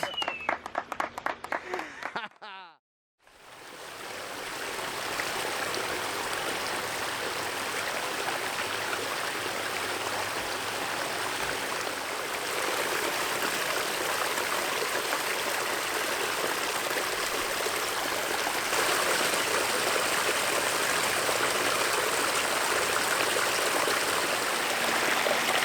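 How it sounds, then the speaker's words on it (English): Water pours steadily down a newly built pond waterfall, a broad, constant rushing and splashing heard up close after a brief burst of voices. "And there it is, the birth of a new Waterfalls."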